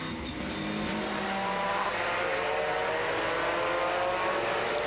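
2001 FIA GT Championship cars at Magny-Cours in dry conditions roar past in a loud continuous stream of high-revving engines, tones shifting as they come around toward the start of the first lap.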